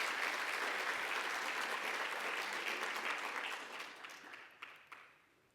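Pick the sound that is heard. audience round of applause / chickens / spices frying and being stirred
audience round of applause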